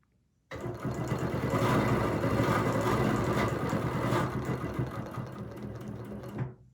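A sewing machine stitches a row on a quilt, its fast, even motor whir starting abruptly and running steadily for about six seconds, close and alone with no talking.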